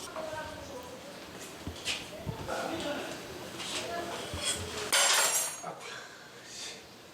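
Dishes clink and clatter in a cramped shared washroom of a Seoul slum rooming house, scattered knocks and splashes sitting under a voice talking over them.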